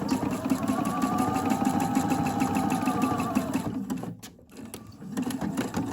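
A sewing machine stitches elastic onto a bra for several seconds of even, close whirring. It stops briefly, then a short quieter burst follows, like a backstitch.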